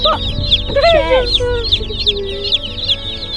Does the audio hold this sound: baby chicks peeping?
yes